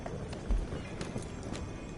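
Horse hooves clip-clop steadily in Red Dead Redemption 2 Online, a faint, quick even gait with a soft background of ambient game noise and no talk.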